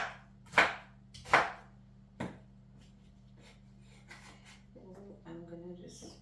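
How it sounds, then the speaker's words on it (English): A knife chops pineapple into chunks on a cutting board: two loud close thuds followed by a lighter third chop, then softer scraping and handling over a steady hum, with a voice speaking briefly near the end. "now you're gonna cut your pineapple like so"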